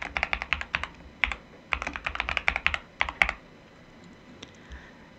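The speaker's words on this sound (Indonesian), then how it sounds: "langsung saja masukkan passwordnya" A password being typed on a computer keyboard: close, crisp keystrokes in quick runs, a short break, then another rapid run, tapering off to quiet at the end.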